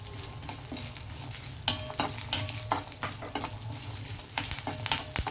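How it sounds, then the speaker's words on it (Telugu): Chana dal, cumin, coriander seeds, garlic and curry leaves frying in a pan, a close, bright sizzle broken by sharp scrapes and clinks of a spoon stirring, fairly quiet and without speech. "జీలకర్ర ధనియాలు వెల్లుల్లి ఇవి కొంచెం హీట్ అయ్యేటప్పుడు మనం కరివేపాకు వేసేద్దాం"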